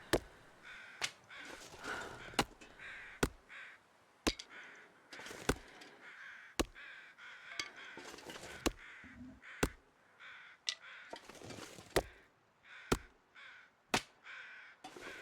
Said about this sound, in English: I heard those crows and I thought that maybe it was a wolf again.